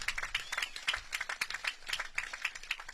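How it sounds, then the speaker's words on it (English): Faint, steady applause from an audience honouring a 9th grade class, with a dense patter of hand claps running evenly throughout and no voice on top. "let's give it, now it's 9th grade class a big round of applause."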